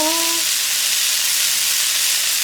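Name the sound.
vegetables with onion and peas sizzling in a wok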